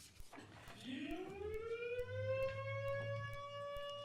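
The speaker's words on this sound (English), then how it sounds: "Smoke alarm." Smoke alarm going off during a county commission meeting, a rising electronic tone that settles into a steady, harmonically rich wail, moderately distant in a room, with a faint low hum beneath.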